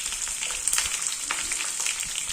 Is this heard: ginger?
yes